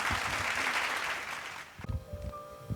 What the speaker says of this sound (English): Let us give a heartfelt applause to the choir for the stellar performance.